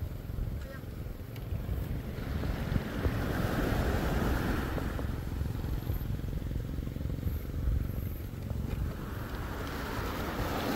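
Waves washing onto a beach on Koh Lipe, Thailand, a steady broadband surf wash with wind noise on the microphone, moderately loud and continuous, with no one speaking.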